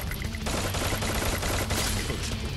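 Gunfire from a sniper rifle in the mobile shooter Free Fire: after a quieter opening, a sustained loud barrage of shots cracks out, with sharp repeated reports layered into continuous noise.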